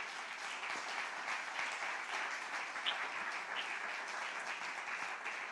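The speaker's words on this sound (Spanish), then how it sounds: "denle otro aplauso al Señor porque eso es maravilloso." A church congregation applauds steadily, a soft, even wash of many hands clapping at a distance, with no talk over it.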